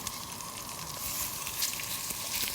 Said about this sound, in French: On va les faire revenir sur chaque face.